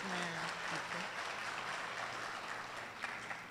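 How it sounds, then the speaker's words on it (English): An audience at a parent awards ceremony claps for an award recipient. A voice opens briefly, then quiet, distant, sustained applause fills the rest and fades slightly near the end. "Please give her a round of applause."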